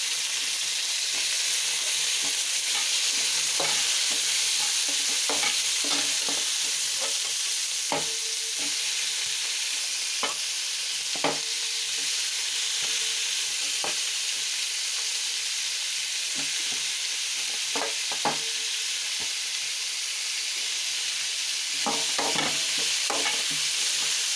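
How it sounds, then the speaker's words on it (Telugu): Ridge gourd pieces fry in a tempering of green chillies and curry leaves, giving a loud continuous sizzle broken by frequent light scrapes and taps of stirring. "కరివేపాకు, పోపు వేగాక పొట్లకాయ ముక్కలు వేసుకోవాలి."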